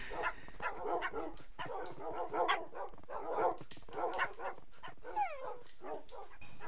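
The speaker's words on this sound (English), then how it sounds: "Oh my god, look at all the dogs." A pack of dogs in a video game barks and yips in quick repeated bursts, loud and close, with a few whimpering whines near the end.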